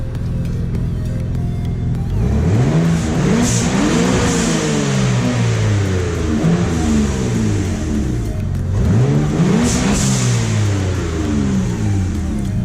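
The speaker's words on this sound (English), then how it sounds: "I'll let it warm up a little bit, and I'll give it a few revs." A Mitsubishi Galant VR4 fitted with a test pipe revs up sharply three times in a row, each rise climbing quickly and falling away, over a steady, loud idle in between.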